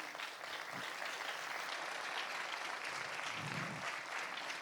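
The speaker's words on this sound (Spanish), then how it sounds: "Denle ese aplauso al Señor." A church congregation applauds in a steady, continuous wash of clapping that sounds fairly distant and soft, with no voices rising above it.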